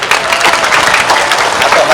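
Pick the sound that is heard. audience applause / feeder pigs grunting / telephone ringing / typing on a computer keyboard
audience applause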